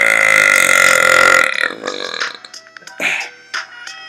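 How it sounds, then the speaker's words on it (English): A man lets out a long, loud, drawn-out burp, followed by a string of shorter, choppier burps in quick succession. "my burping talents. Because I can do them back to back."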